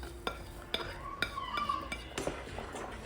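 A spoon stirring semolina (rava) in a metal pan for sheera over low flame: several sharp clinks against the pan rim, spaced irregularly, with soft scraping between them, close and fairly quiet.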